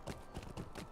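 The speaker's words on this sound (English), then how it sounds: "So basically I'm just riding to here, and then I will get on my own horse" Horse hooves clip-clop in a quick, steady rhythm during riding in the Lord of the Rings Online video game, with four loud, close impacts and no voices.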